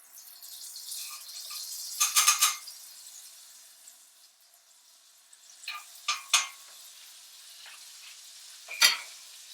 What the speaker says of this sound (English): we're going to put the egg that we just put in the ramekin into the pan. There's our butter.